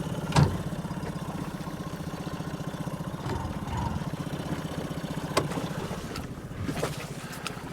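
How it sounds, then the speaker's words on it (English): A catamaran's small outboard engine starts and keeps running near the boat, a steady low mechanical hum with a few brief knocks and splashes on the water, no talking. "start the engine. It's so simple."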